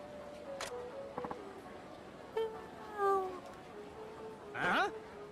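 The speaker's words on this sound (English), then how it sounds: "kitty cat, can I adopt you?" Cat in the Yakuza video game, giving a few short meows and a longer rising cry spaced across several seconds, faint to moderate against a quiet background, with light talk nearby.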